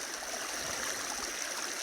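Water runs steadily through a gold sluice box at a creek, a constant soft rushing and trickling wash with no breaks, heard close and alone.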